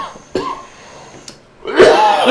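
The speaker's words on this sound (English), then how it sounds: "Can you hear the dab cough?" A couple of short coughs or throat-clears up close, followed by a louder burst of voice-like noise at the end.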